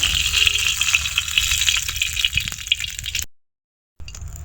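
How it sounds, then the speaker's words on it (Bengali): Soybean oil in a wok, readied for frying climbing fish, gives a close, bright sizzling hiss with small crackles for about three seconds, then goes silent briefly before resuming faintly. "কড়াইয়ের মধ্যে সোয়াবিন তেল দেওয়া হচ্ছে"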